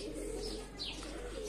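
Mardin pigeons coo in a steady low murmur under a constant hum, with a brief chirp-like flutter partway through and no talk.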